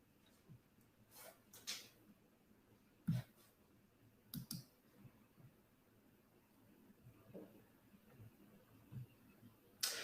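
Sparse mouse clicks at a computer, single sharp taps spread irregularly across a quiet background, with a louder cluster near the middle and one at the very end.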